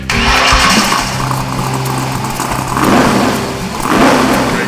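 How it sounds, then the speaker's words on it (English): Classic cars and hot rods at an outdoor car show fire up their engines, a loud continuous roar of starting and idling motors with swells of revving, no talking over it. "start your engines"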